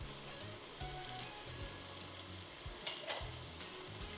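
Pork belly sautéing in a pan for a vegetable soup, a steady close sizzle and crackle with stirring scrapes running throughout, no voices.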